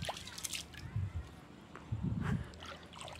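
Pond water laps and sloshes softly against the bathing steps of a garden ghat, a faint irregular wet splashing in a few low pulses.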